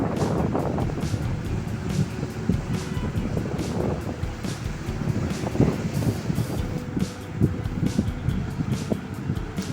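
Steady gusty wind buffets the microphone at a seashore, a continuous low rumble with broadband rush and occasional louder surges throughout, no voices.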